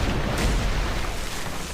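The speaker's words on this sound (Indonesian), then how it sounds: "tembakan meriam dari kapal tersebut menembak bagian kanan wilayah Pulau Ross" Cannon fire from a ship near an island, heavy booming blasts that merge into a dense, continuous rumble, loud and close.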